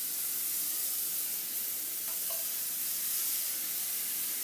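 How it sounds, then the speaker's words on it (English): Butter melting in a pan on the stove gives a steady, soft, continuous sizzle and hiss that holds at one level throughout, with no talking. "I'm going to put a piece of butter in here and let it melt down."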